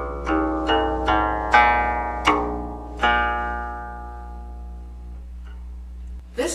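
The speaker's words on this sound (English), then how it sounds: "the first tone of the scale is located on the open string of the third string" Plucked guqin strings ring out at close range, starting with the open third string, the first tone of standard tuning. Six or so resonant notes follow at a steady pace, each decaying slowly, with a faint pluck near the end.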